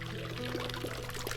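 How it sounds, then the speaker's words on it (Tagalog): Water streams steadily through a bright outdoor garden with roses, a continuous broad rushing wash close by, with no pauses and no talk. "ito yung tubig na naririnig nyo"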